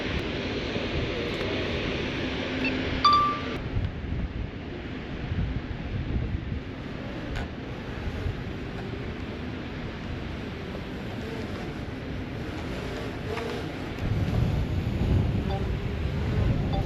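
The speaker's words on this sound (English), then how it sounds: "it's quite windy, so the drone's having to work a lot harder" Strong wind buffeting an outdoor microphone during a drone flight, a steady loud roar with gusts that swell near the end.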